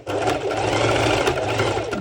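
A sewing machine runs steadily up close while stitching a sporty cut-out bikini top, its rapid mechanical whir and needle rattle continuous and loud throughout the short stretch.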